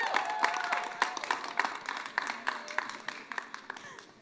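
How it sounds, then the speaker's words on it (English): An audience claps in warm applause, a dense patter of many hands filling the room at moderate volume and continuing steadily throughout without a break. "Please give a big applause for the young people of Plan International Belgium."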